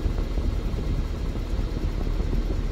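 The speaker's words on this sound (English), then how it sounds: "there are some, I think, extra noises coming from the engine." A 2018 Mercedes engine with about 256,000 km on it idles at around 850 rpm with a suspected knocking fault, giving a steady, close, continuous low rumble with no talk.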